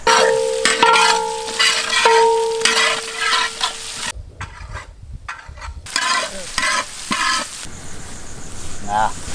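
Curry leaves sizzle loudly as they fry and are stirred in a pan, with repeated metallic scrapes and clangs of a spoon, a voice speaking at times, and a brief quieter gap midway.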